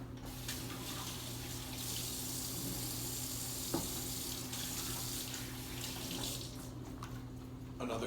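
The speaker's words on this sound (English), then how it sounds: "Another quick wash of the hands." Hands being washed under a running kitchen tap, a steady rush of water hitting a sink basin with a faint constant hum beneath, continuous and fairly close throughout with a brief knock midway.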